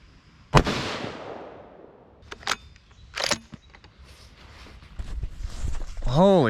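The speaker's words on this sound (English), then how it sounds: "we're going to shoot them and see how badly the new brake throws everything off" A 6.5 Creedmoor Ruger rifle fitted with an APA Fat Bastard Gen 2 four-port muzzle brake fires one sharp, loud shot with a long decaying blast, followed by handling clatter and a person speaking.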